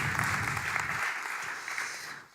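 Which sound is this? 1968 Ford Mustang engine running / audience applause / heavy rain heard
audience applause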